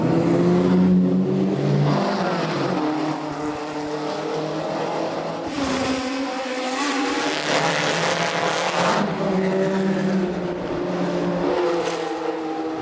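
An Aston Martin DB3S race car at a motorsport event drives by, its engine droning and revving steadily with shifting pitch across several seconds, loud and continuous with no voices.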